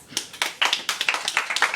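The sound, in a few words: audience round of applause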